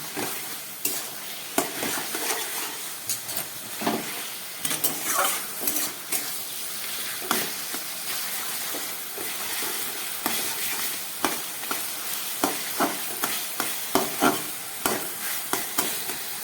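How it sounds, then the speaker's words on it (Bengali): Taro leaves (kochu shak) with coconut and ground coriander being stir-fried in a pan, a low sizzle under repeated rhythmic scraping and clanking of a spatula against metal, close and without speech. "আবার এটাকে দু তিন মিনিটের মতো আমি কষিয়ে নেব"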